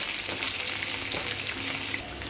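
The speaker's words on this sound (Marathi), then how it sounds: "कांदा आणि खोबरं थोडं परतून झाल्यावर" Onion and grated coconut sauté in a hot pan, a steady, close, loud sizzle and crackle that continues without a break and without voices.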